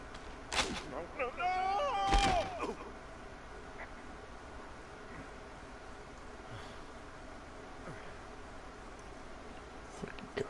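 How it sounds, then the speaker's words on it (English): Distant fireworks in the video game Firewatch, a couple of sharp booming bursts with crackling tails early on, then faint scattered pops over quiet outdoor ambience. "Those fireworks are going off to the west of you."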